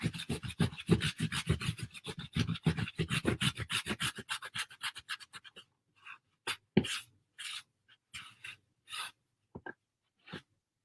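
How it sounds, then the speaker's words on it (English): Paint being rubbed by hand into the outside edge of a woven rattan stand-up Easter bunny, heard as a dense run of close, rapid rasping strokes that thin out into a few scattered scrubs. "I keep rubbing the paint into the outside edge."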